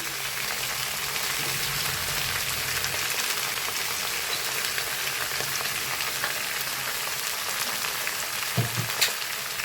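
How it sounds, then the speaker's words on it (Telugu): Amaranth leaves fry in a pan for a tomato curry, giving off a steady, close crackling sizzle like light rain, with occasional louder pops and clinks near the end. "ఇప్పుడు తోటకూర అయితే వేసేస్తున్నానండి."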